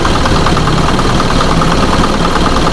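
A running Isuzu 4HL1 diesel engine with a fault that makes it die, heard loud and close as a dense, steady rumble and clatter with no pauses.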